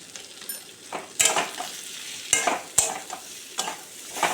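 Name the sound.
vegetables with turmeric stir-frying in a pan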